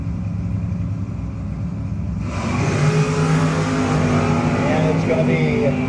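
No-box drag race cars at a 660 shootout launch down the track, an engine roar swelling suddenly midway and staying loud with rising revving tones, a track announcer talking over it.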